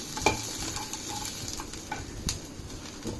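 Paneer cubes fry in butter in a kadai, a close, steady sizzle punctuated by light scrapes and taps as they are stirred to brown.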